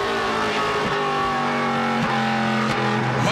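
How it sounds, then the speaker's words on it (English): Onboard engine of a NASCAR Pinty's Series stock car during the 2017 Fall Brawl race, a loud, continuous roar with rising and falling revs between gear changes, heard from inside the car with no talk. "The sound inside the car, a lot different from what you get from underneath the car at the back end, as DJ Kennington feeling all sorts of press"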